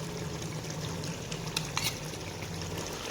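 A spoon works through thick beef korma gravy with ground browned onion in a pot, giving a steady wet scraping and churning with a couple of brief clinks, close and moderately quiet, with no talking.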